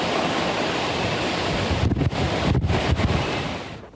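Hurricane Michael's storm winds battering the Florida coast, a loud, continuous roar of gusts buffeting the microphone with surging, surf-like rushes and a few brief dips near the end.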